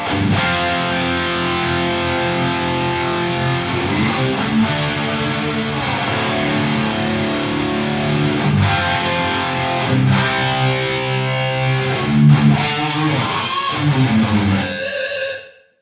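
Distorted electric guitar plays sustained chords and notes through a Softube room reverb preset, roomy and reverberant, ringing out steadily before cutting off at the end.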